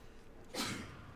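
A single short, sharp burst of breath like a sneeze, fairly quiet, rising abruptly and then trailing off against a faint background hum.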